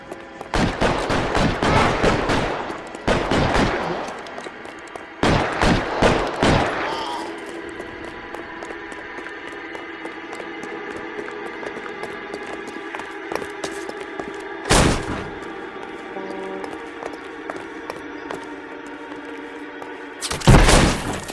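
Bursts of gunfire crackle through a shootout in the video game L.A. Noire, arriving in clustered volleys and scattered single shots over a steady hum of game ambience, with excited voices talking in between.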